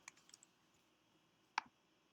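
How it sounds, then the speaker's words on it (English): Brief bursts of light clicking and taps on a touchscreen device while entering numbers into a mobile game, a cluster of quick taps at the start, then a single sharper tap after a pause, close and quiet. "Okay, I cannot type."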